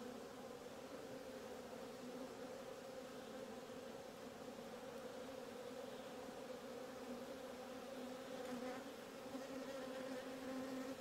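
Honeybees of selected breeding stock buzz steadily and densely during a hive inspection, a close, continuous drone that holds at an even loudness throughout with no voices.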